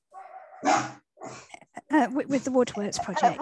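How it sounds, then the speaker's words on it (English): Noisy pet dogs bark and yip in the background of a home video call, recurring bursts mixed in with and under a person's ongoing talk. "You better mute me again because I've got noisy dogs."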